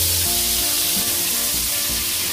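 Shrimp sautéing in a pan for a Filipino-style corn soup, a steady close sizzle and crackle of frying with a few low thumps of stirring, no voices.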